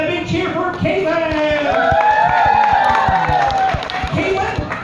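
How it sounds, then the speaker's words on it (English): Crowd cheering and clapping at a science show at the 2018 Florida State Fair, a loud, sustained burst of whoops and applause lasting a few seconds, with voices mixed in. "A big cheer for Caitlin."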